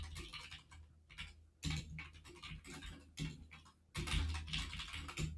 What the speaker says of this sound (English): Good grief, I can't type.